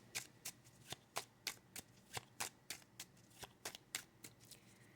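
A cartomancy card deck shuffled by hand, a fast series of crisp riffling bursts close up, each one a short papery flutter, in a quiet room with no voices.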